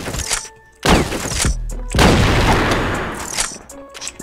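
Loud gunshots from a Kar98 rifle in a video game, a couple of sharp blasts with heavy booming decay, close and punchy, with bits of faint sound between.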